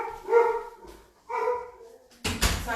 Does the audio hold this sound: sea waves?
no